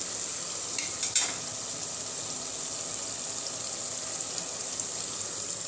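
Masala and mutton keema fry in a pan with a steady, even sizzle and a couple of brief louder crackles early on, with no voices.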